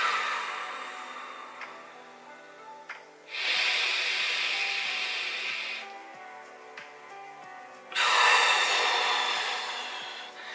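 Slow, deep breathing done as an exercise to calm anxiety, heard close and loud as long airy hissing breaths, two sustained exhales separated by quieter pauses.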